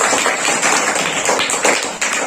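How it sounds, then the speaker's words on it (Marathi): A classroom of children claps together, a steady patter of many small hands that stays fairly even and moderately loud, with no voices over it. "व्हेरी गुड टाळ्या वाजवण्यासाठी"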